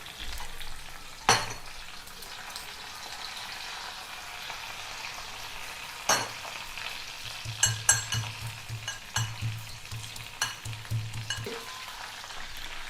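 Onion frying in a pan for a Maharashtrian-style dish: a continuous soft sizzle with occasional louder pops and stirring scrapes in the later part, close by and without speech.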